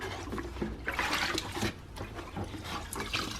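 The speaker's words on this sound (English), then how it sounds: "So I just dip them into the kerosene," Dirt bike air filters dipped and soaked in a tray of kerosene give close, wet sloshing and splashing that swells and fades in uneven bursts, with no talking.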